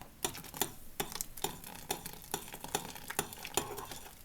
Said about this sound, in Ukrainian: і швидко перемішую